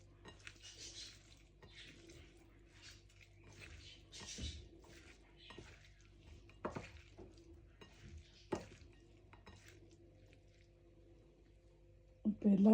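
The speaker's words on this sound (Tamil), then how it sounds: "தக்காளி பழம், இந்த புடலங்காய் எல்லாம் சேர்கிற அளவுக்கு நல்லா கையால் மிக்ஸ் பண்ணி விடுவோம்" Chopped tomato and snake gourd are mixed together by hand in a bowl, with soft squishing and occasional clinks of the dish, quiet and close.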